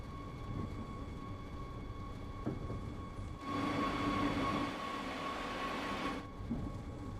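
Train running in the Train Sim World 3 video game, a steady rumbling drone with faint tonal hums that swells louder midway, as if entering a shelter, then eases back, with no talking.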